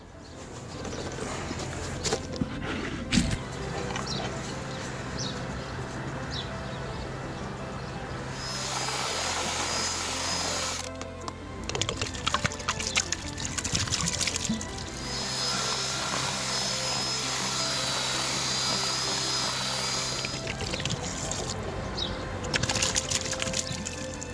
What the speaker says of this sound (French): je vais tout mélanger à la perceuse avec 1 litre d'eau